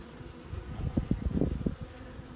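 Honey bees buzz softly inside a hive at an apiary in spring, a low, fluttering hum, with several closer bees droning briefly in the middle.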